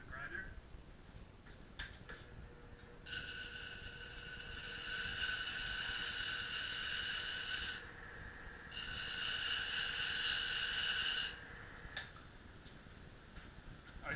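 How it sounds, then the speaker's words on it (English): A bench grinder touches up a woodturning tool in two sustained bright whining passes, each several seconds long, with a short pause between them and quieter workshop sound before and after. "First thing I'm going to do is just touch this up on the grinder."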